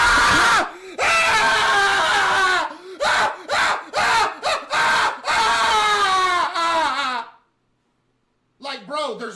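A little boy screams loudly in repeated bursts, his shrill voice breaking off and restarting several times, followed by a sudden silence and a brief further outburst at the end.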